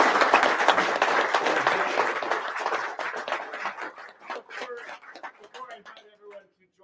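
Applause for a professor after a lecture on world history: dense clapping from an audience that thins out into a few scattered claps before fading to silence.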